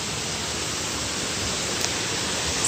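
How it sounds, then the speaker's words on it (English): Steady broadband rushing of a waterfall near a tent spot in the Appalachian Trail's 100 Mile Wilderness, a continuous even roar with no voices. "We're gonna listen to waterfall tonight."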